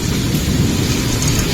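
Heavy monsoon rain pours steadily outside, a dense loud hiss with low rolling thunder rumbling underneath throughout.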